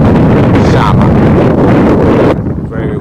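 Heavy wind buffeting the microphone at an outdoor cricket match, a loud continuous roaring rumble with voices faintly underneath, dropping off abruptly near the end.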